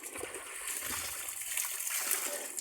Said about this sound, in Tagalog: lakas tubig dito